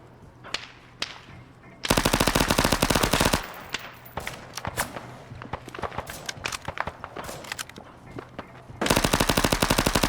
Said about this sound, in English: here I go SMGing again